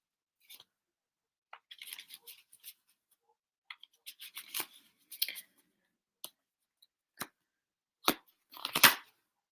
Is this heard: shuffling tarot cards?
yes